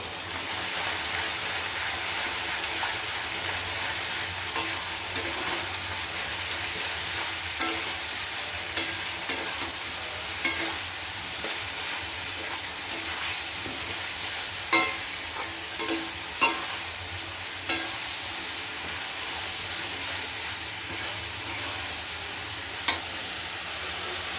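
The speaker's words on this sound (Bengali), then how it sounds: "ভালো করে মশলা কষায় নেব" Spices fry and sizzle in a pan with oil while being stirred during home cooking, a continuous hiss with occasional small pops and scraping clicks, steady and close, no voices.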